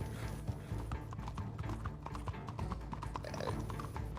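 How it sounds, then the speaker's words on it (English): A horse's hooves clop in a quick galloping rhythm in the video game Red Dead Redemption 2, steady and close over a faint background hum, with no talking. "horse."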